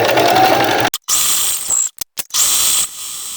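A sewing machine stitches along the side of a small fabric tote bag, starting and ending with a back stitch, giving close, steady mechanical whirring runs broken by several brief pauses and short bursts.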